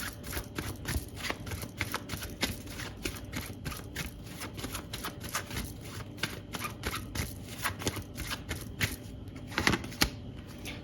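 Tarot cards are shuffled and drawn in a rapid run of crisp riffling flicks, close and fairly quiet, with a sharper slap near the end.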